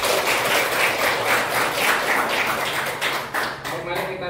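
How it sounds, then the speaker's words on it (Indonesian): A classroom of students applauding, a dense patter of hand claps filling the room continuously before thinning out toward the end, with voices mixed in. "Beri aplaus untuk kita semua."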